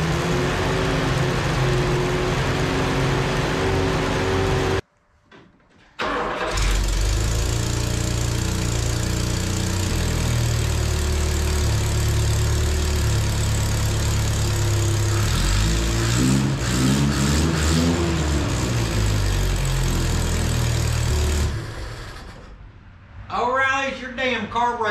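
A vehicle engine fitted with a new carburetor runs and revs loudly up close, cutting out briefly and restarting, while someone talks over it.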